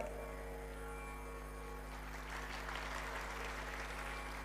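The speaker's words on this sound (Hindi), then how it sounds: "अब एक व्यक्ति ताली बजाता है तब दूसरे शुरू करते हैं।" An audience at a Hindu religious discourse in Kanpur applauds in a dense, continuous wash of clapping that stays steady throughout, heard slightly distant over a low electrical hum.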